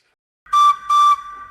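Two short, shrill steam engine whistle blasts sound in quick succession, clear and alone against silence.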